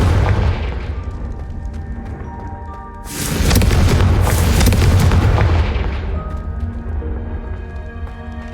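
A Confringo fire-blast spell goes off in the Hogwarts Legacy game, a loud booming explosion bursting in around the middle, then rumbling and fading over a sustained musical drone.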